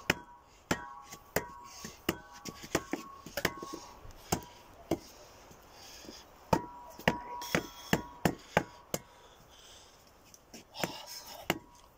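Sharp, irregular knocks ring out one after another with short pauses, like hammering outdoors in a quiet setting.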